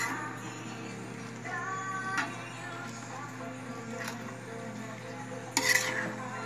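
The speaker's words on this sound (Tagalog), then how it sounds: "Tapos, haluin natin." Pansit palabok gets stirred in a pot, with faint scraping and soft clinks of a utensil over a steady background hum and a sharper metallic knock near the end.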